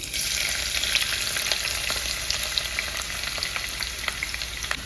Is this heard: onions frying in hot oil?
yes